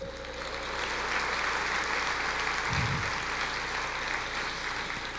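Church congregation clapping during a worship service, a fairly faint, continuous wash of many hands that holds steady throughout, with a brief low thump midway.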